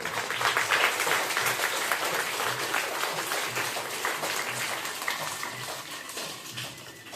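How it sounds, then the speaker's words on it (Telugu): An audience applauding students at a Ganesh Chaturthi event, dense continuous clapping heard from within the crowd, gradually thinning toward the end. "అందరూ చప్పట్లతోటి వాళ్ళని ఆశీర్వదించాలని కోరుకుంటున్నారు"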